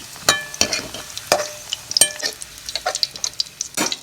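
Mushrooms cooking in a pan for a mushroom gravy, with irregular metal clinks and scrapes of stirring over a faint, soft sizzle, close and fairly loud with no speech.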